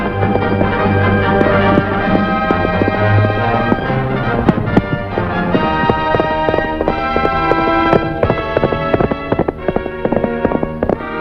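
Horses gallop away across a 1950 Western scene as hooves clip-clop in a fast, irregular patter over orchestral music for about eleven seconds.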